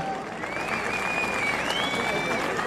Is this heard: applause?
yes